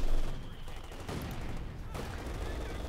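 Browning LMG light machine gun fire in the Company of Heroes 2 strategy game, a dense crackle of gunfire bursts lasting throughout, fairly quiet and mixed with battle noise.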